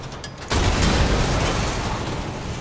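A sudden loud boom bursts in and gives way to a long, dense roar of rumbling noise that slowly fades, an explosion in the video game Resident Evil Village.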